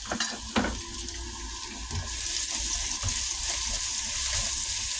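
Bitter gourd (ampalaya) with garlic frying in a pan gives a steady, close hiss and sizzle with a few faint clinks and stirring scrapes, running unbroken throughout with no talking.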